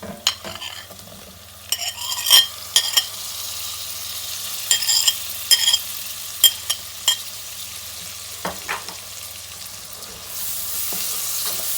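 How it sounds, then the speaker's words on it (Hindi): Potato and fenugreek masala with tomatoes and green chilies frying in a pan, a steady close sizzle broken by repeated sharp scrapes and clinks of a spoon stirring against the metal, with no talking. "5-7 मिनट तक हम लोग इसका मसाला भूनेंगे।"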